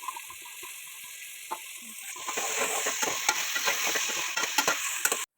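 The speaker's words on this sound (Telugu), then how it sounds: "తర్వాత క్యారెట్ అండ్ బీన్స్ వేసి ఫ్రై చేయాలి." Carrots and beans hit hot oil for a mushroom biryani, and a quiet hum swells into a loud, crackling fry with scattered stirring scrapes before it cuts off abruptly.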